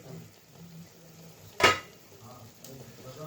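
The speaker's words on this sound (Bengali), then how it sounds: "তো ঢাকনাটা উঠিয়ে দিই।" A metal lid is lifted off a cooking pot of soybean kosha with one sharp clink near the middle, over a faint background hiss of cooking.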